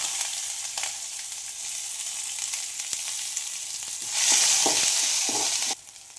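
Chana dal, urad dal and a ground paste of ginger, garlic and green chilli frying in hot oil for masala dosa filling, a steady close sizzle that surges louder near the end with stirring scrapes, then cuts off.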